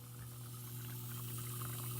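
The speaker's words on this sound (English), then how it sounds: "I'm just going to turn on the dishwasher and turn on the water just to make sure there's no leaks happening." Dishwasher running a load with the water supply on after a water valve repair, a quiet steady hum with a faint watery hiss underneath, continuous and unbroken.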